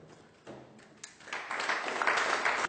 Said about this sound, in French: maintenant, on va les applaudir déjà tout de suite